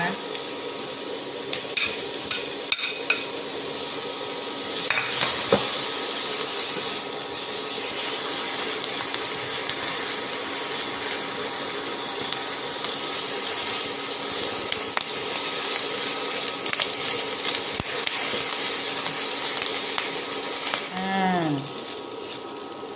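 Ham sizzles in a frying pan while an omelette is being made, a steady soft crackle with occasional clicks and scrapes, close by and continuous, with someone talking over it.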